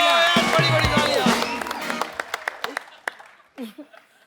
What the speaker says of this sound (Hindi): बड़ी तालियां।